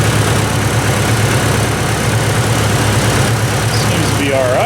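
A Plymouth Barracuda engine idles steadily right after final assembly, a loud, constant low rumble with a throbbing exhaust note, outdoors in the rain with faint rain hiss around it.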